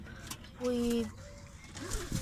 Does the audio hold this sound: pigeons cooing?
yes